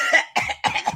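A woman breaks into a coughing fit after laughing, three sharp close bursts of coughing in quick succession, loud and alone.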